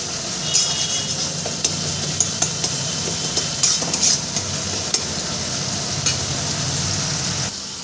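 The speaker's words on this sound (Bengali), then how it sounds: "মশলা থেকে প্রায় আমার তেল বেরিয়ে গেছে বেশি কষানোর দরকার নেই অল্প কষালেই হয়ে যাবে" Spice masala fries in oil with a constant loud sizzle, and close metallic scrapes and clicks of stirring come at irregular moments throughout, with no voices.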